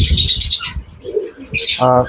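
An Indian ringneck parakeet gives loud harsh screeches, a pause with a soft low sound, then a burst of shrill squawks and a short nasal call.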